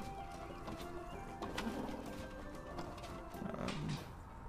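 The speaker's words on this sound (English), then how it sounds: "Birdies are doing the thing." Birds coo repeatedly in the video game Night in the Woods, soft dove-like calls rising over a bed of ambient game music and background sound.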